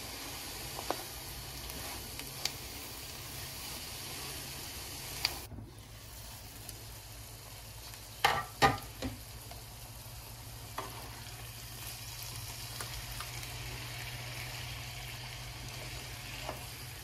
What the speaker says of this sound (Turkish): Ve patlıcanımızı kavurmaya devam ediyorum.